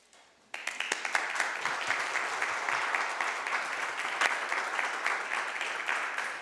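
Applause for a town swim team at a Westfield council meeting, a sudden burst of clapping from the gathered audience that starts abruptly and holds steady and fairly close to the end.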